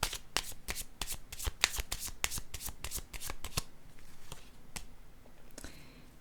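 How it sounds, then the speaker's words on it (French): Playing cards riffle and snap in quick succession from a deck, a fast run of crisp slaps for about three seconds, then a few slower, softer flicks and rustles, close and quiet without talk. "Je vais piger une carte sur la zone de l'attaque."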